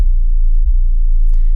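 Sub-only 808 bass in a trap beat, EQ'd so everything above about 53 Hz is cut, droning as a smooth, continuous low hum that stays loud and steady, alone with no other instruments.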